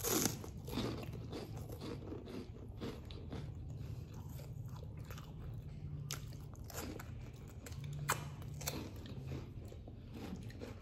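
Close, steady crunching and biting of a crisp chocolate-coated corn snack, with repeated wet chewing bursts running throughout and no talking.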